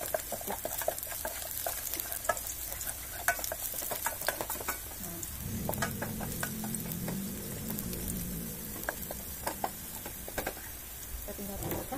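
Garlic and shallots frying in a pan while being stirred, a continuous soft sizzle broken by scraping and tapping stirring strokes, fairly near and moderately quiet, with no talk.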